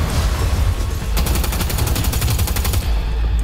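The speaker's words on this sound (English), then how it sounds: "That's a lot of explosions." Rapid gunfire and explosions from Cyberpunk 2077 fill the scene, a dense, loud barrage with a fast rattling burst in the middle over continuous rumbling booms.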